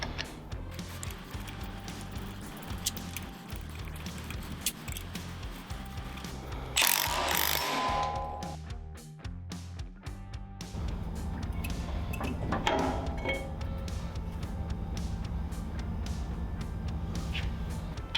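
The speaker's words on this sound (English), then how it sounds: "Use a pulley puller to remove the flywheel from the crankshaft." A pulley puller works the flywheel off the crankshaft of a Predator 670cc V-twin engine, making repeated metallic ratcheting and clicking, a sharp scraping burst partway through, then more clanking and grinding of tools on metal, close up.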